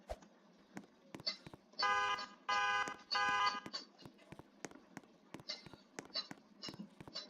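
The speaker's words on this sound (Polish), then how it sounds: "Włączył mi się alarm." Inside a house, an electronic alarm beeps in three loud, sustained bursts of roughly half a second each, separated by short gaps, amid scattered clicks and light knocking.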